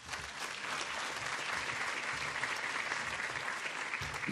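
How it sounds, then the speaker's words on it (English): Warm audience applause at an OECD conference as the Secretary-General is introduced, steady full-room clapping that runs throughout. "Ladies and gentlemen, accompany me with a warm applause."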